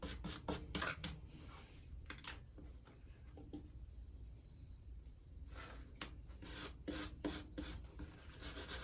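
A metal gasket from a Vevor diesel heater rubbed clean by hand, a series of close, rasping scrubbing strokes in irregular bursts with quieter stretches between them.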